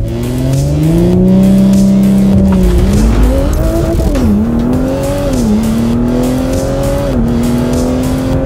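A Stage 2+ E85 car with a 034Motorsport tune, on Continental Extreme tires and Konig Heliogram wheels, launches hard on a cold track: a loud, close engine climbs and dips through gear changes over a steady squeal of tires for several seconds, with no talking.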